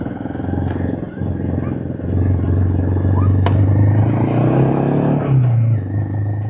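Motorcycle ridden on a high mountain road in Ladakh, its engine a steady close low drone that swells as the bike pulls harder midway, with wind buffeting throughout.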